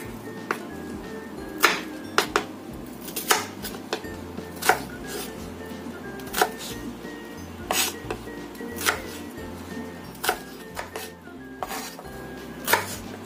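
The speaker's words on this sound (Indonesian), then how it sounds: "Ini kita potong besar-besar aja kayak gini biar rasanya nanti lebih berasa." Four shallots cut into large chunks with a knife on a cutting board, giving a steady series of sharp, moderately loud chops spaced about half a second to a second apart, each with a clinking edge.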